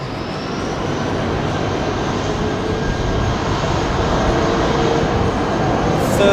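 An airliner departs Heathrow Airport in the evening, its jet engines making a sustained, loud, broadband roar that holds steady and rises slightly toward the end.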